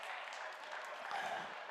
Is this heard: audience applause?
yes